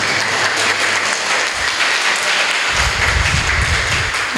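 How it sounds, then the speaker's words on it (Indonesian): A crowd in Lumajang breaks into loud, sustained applause welcoming a miniature truck community, dense clapping that holds steady and swells slightly toward the end. "Untuk kehadirannya kita berikan tepuk tangan yang semeriah-meriahnya"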